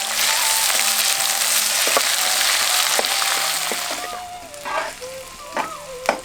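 Small onions (shallots) with curry leaves and cinnamon sizzle loudly in hot oil for a village-style palm fruit curry; the hiss fades toward the end as a utensil clinks and stirs.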